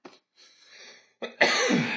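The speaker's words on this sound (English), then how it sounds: "And cough." A single person coughs a few times up close, with short bursts separated by brief pauses, and the last cough is the loudest and longest.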